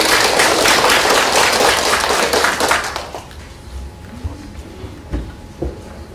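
An audience at an academic lecture applauds to welcome Professor Zhong Yong. Dense, loud clapping lasts about three seconds, then fades to a few scattered claps and quiet room noise.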